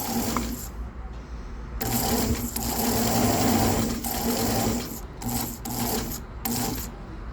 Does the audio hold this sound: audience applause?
no